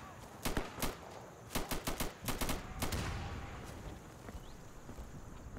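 Gunfire from the video game Insurgency: rapid bursts of sharp shots in quick clusters, loud and close, followed by a fading rumble. A voice is faintly present.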